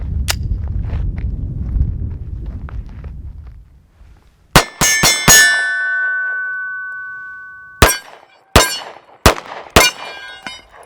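Shots from a CZ 75 PCR 9mm pistol strike a hanging steel gong target, giving a rapid burst of four sharp ringing clangs, then a pause and four more, each hit leaving a bright metallic ring.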